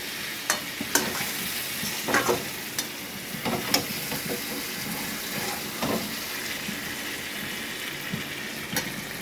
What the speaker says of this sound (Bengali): দেখুন কষানোটা কি সুন্দর হচ্ছে।